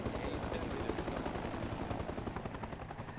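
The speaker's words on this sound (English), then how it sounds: "Do I hear shots being fired?" Rapid gunfire crackles through a video game battle, with bursts of shots and a constant helicopter drone underneath, all dense and continuous without pause.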